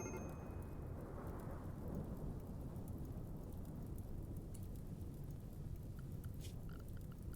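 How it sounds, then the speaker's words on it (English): Dry thunderstorm in the colony-building video game RimWorld, a long low thunder rumble that swells and slowly fades, with a steady rain-like hiss underneath. "We had a flash storm and now a dry thunderstorm."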